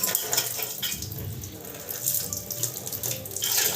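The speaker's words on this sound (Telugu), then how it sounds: "ఇక్కడ వాటర్ కరెక్ట్ పోతుందా లేదనేది ఫస్ట్ చెక్ చేసుకోవాలి" Water running from a water purifier's detached inlet pipe, a steady close splashing flow that rises and dips slightly in strength, with no talking.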